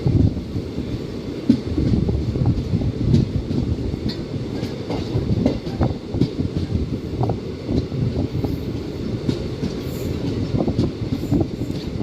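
Ranikhet Express, an Indian passenger train, rolls steadily along the rails with a continuous rumble and repeated clickety-clack of wheels over joints, heard from on board at moderate loudness with no talking.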